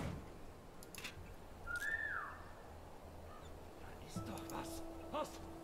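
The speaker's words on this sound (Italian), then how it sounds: "Dobbiamo recuperare fiato per fischiare di nuovo." A short two-note whistle from a player character in the video game War Mongrels, a clear rising-then-falling tone heard once, faint against a low steady game ambience with a few soft clicks.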